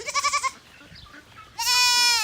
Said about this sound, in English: As you can see, I've already let the noisy goats out.